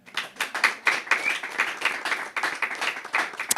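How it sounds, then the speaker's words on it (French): An audience at a French-language panel discussion on financing and access to resources claps for itself, a steady patter of many hands filling the room without speech, rising and dipping over a few seconds. "applaudissez pour vous-même."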